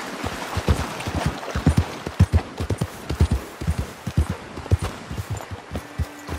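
Hooves of a Hungarian Halfbred horse in Red Dead clip-clop in an uneven walking rhythm, close and fairly loud, with a faint hum near the end.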